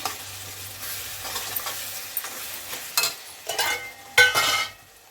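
Eggplant pieces dropped into a pan of softened, cooking tomatoes, giving a steady close sizzle with stirring scrapes and a few louder clattering bursts near the end, and no voices.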